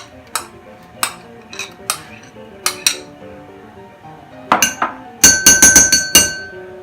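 Clinking glass and metal utensil strikes as cottage cheese goes into a bowl for manicotti filling, about a dozen sharp clinks, sparse at first then a quick cluster of bright ringing taps near the end.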